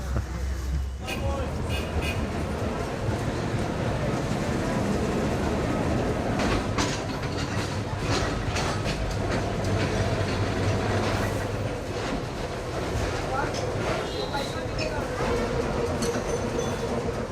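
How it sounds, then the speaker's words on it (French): A Calcutta tram rumbling along its rails, a steady loud low roar with rhythmic clacking of wheels over track joints, continuous and close throughout, with faint voices mixed in. "C'est un beau tramway, c'est un peu le train"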